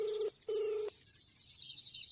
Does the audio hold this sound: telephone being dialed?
yes